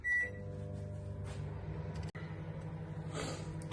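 A microwave oven cooking a syrup sponge hums steadily and loudly for the whole stretch, with a brief click partway through and no voices.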